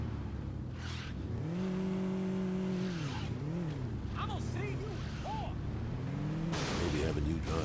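A car in the Saints Row video game revs and whines through shifting engine tones, with brief tire squeals and skids over continuous game noise and a voice talking.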